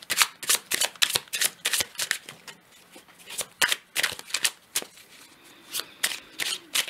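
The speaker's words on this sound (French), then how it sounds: "je vais reprendre une carte du tarot dessus, sur la carte du départ" Tarot cards being drawn and handled: a rapid run of crisp, close card flicks and slaps, tightly bunched at first, then sparser, with short pauses between snaps.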